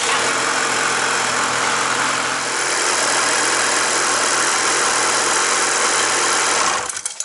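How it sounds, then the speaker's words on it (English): A Ski-Doo snowmobile engine, pull-started by rope, runs loud and close at a steady rough idle with constant rumble and vibration for about seven seconds before cutting off abruptly. "that's how you manually start a Ski-Doo snowmobile with the pull rope and the tow kit"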